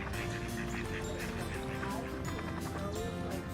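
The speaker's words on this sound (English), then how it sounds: "The ducks are having a parade." Ducks on Lake Mendota, Wisconsin, honk and quack in a busy, overlapping chorus, fairly faint and outdoors, with a voice talking in the background.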